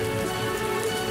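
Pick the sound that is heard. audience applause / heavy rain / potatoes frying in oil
heavy rain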